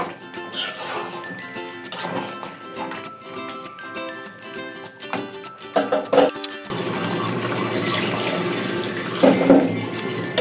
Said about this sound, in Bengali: মুরগিটাতে আমি পানি দিয়ে দিলাম।